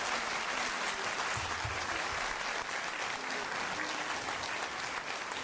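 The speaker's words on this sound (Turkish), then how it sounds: "Şöyle alkışlar diyelim." An audience at a Turkish classical music choir concert in Bodrum claps steadily and evenly for several seconds, a dense, continuous applause heard from within the hall.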